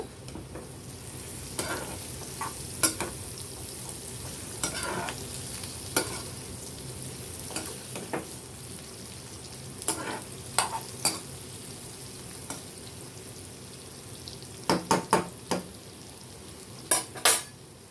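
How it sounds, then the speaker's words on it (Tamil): Bitter gourd sautéed in a pan for pickle, continuous gentle sizzle punctuated by many sharp spatula clicks and scrapes on metal, some in quick clusters, close by with no talk. "பாருங்க நல்லா வதங்கிடுச்சு இப்போ"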